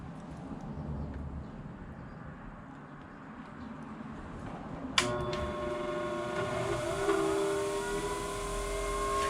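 A thunderegg being ground on a polishing machine: a steady low motor rumble, then a sudden onset of a loud, sustained whining grind with ringing tones that continues to the end, with no talking.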